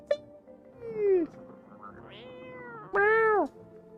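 A cat meows twice in the video game No I'm not a Human, each a clear, close, drawn-out cry, with a short rising chirp between them and quiet background sound.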